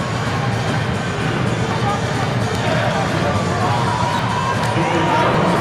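Crowd noise fills a volleyball arena, Wells Fargo Arena, during an NCAA women's match between Washington and ASU: a dense, steady murmur of many voices with faint thumps and scattered calls, unbroken from start to finish.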